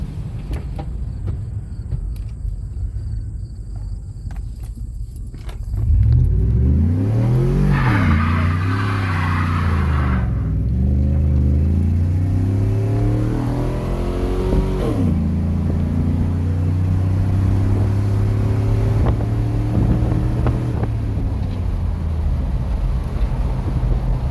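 A Chevy pickup truck with a 3.5-inch Speed Engineering single exhaust idles, then revs up and down several times in deep rising and falling surges before settling into a steady drone, with wind noise throughout.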